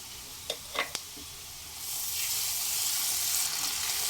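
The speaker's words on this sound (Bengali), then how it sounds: "মিডিয়াম ফ্লেমে এক মিনিট ভেজে নেব" Ginger garlic paste with onions hitting the pan: a few light clinks, then a loud, even sizzle swelling up and holding steady to the end.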